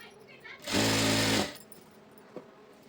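A sewing machine stitches a petticoat seam in one loud, steady burst of rapid mechanical whirring that lasts under a second, with quieter room sound before and after.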